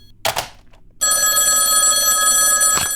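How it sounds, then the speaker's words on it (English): A telephone bell rings loud and close. A short clatter comes first, then the bell rings continuously for about two seconds in an old radio broadcast setting, with no speech. "Other phone's ringing."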